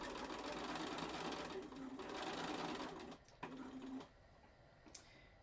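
A sewing machine stitches a fabric pencil case in a fast, steady mechanical whir with rapid needle clatter. It runs close and clear for about three seconds, then gives a few short bursts before stopping.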